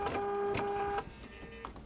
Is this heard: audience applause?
no